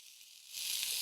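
Spinach leaves added to a hot kadai catch with a sudden close sizzle and hiss halfway through, the frying loud and steady after a quieter start.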